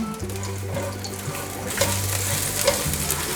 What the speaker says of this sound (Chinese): 把芹菜放进来，把芹菜炒香